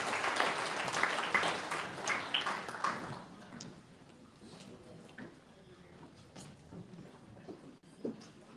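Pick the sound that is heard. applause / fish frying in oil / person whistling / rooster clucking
applause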